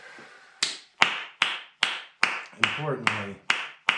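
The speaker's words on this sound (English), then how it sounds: "I'm gonna give myself a round of applause and a pat on the back." One person claps hands in a steady series of about nine sharp, close claps. A brief spoken word overlaps the middle of the claps.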